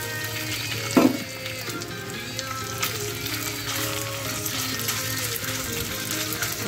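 Marinated minced pork, seasoned with oyster sauce and light soy sauce, sizzles steadily in a hot pan, with one sharp clatter near the start and a continuous close frying hiss throughout, no talking.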